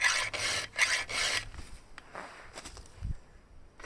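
A file rasps back and forth across a chainsaw chain's teeth out in the field, several quick scraping strokes close up, then quieter scrapes and light handling noises.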